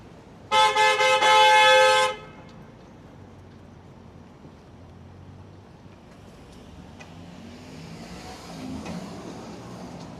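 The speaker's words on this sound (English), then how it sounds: "the guy's honking at him" Car horn blaring at a TTC train on a Toronto street, one loud sustained honk of about a second and a half, then quieter traffic rumble and city ambience.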